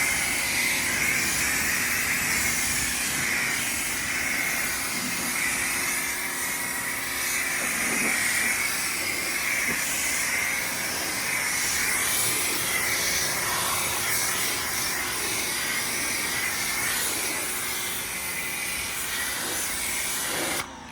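Ryobi 1.8 GPM electric pressure washer spraying through a 40-degree nozzle during an automotive rinse, a continuous loud broadband hiss and spray noise held steady throughout, close up with no talk.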